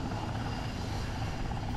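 A Seahawk helicopter hovers over the deck of a moving aircraft carrier, its rotor and engine roar a steady, dense, continuous drone throughout, close and loud with no other sounds.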